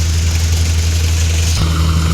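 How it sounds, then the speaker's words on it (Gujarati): Loud, steady mechanical drone of a Shri Balaji thresher driven by a Swaraj 744 tractor at 1100 rpm, threshing kabuli chickpeas nearby, a continuous low rumble with a slight shift in pitch near the end. "1100 આરપીએમ ઉપર આપણે ચલાવીએ છીએ ટ્રેક્ટર"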